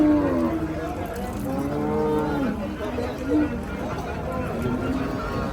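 Cattle lowing at a rural village cattle market on a rainy day, several long drawn moos overlapping at close range over a busy murmur of market chatter, with people talking nearby.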